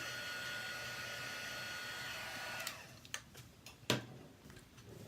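A hair dryer drying paint on a four-square paper craft layout blows as a steady close whir for over half the clip, then cuts off, leaving a few light taps and clicks.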